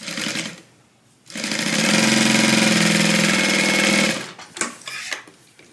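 A sewing machine stitches TriBeca tote bag pieces together in one steady, loud run of about three seconds, followed by quieter fabric handling and a few light knocks.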